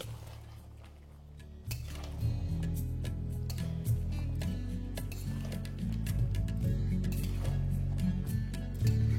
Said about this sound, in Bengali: ব্যাস তারপর ফ্লেমটাকে হাই করে এটাকে ভালো করে মিশিয়ে নিন।